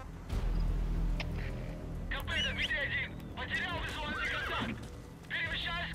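Horse in the Metal Gear Solid V video game, set in open-world Afghanistan, neighing in several loud whinnies over steady galloping hoofbeats and game ambience.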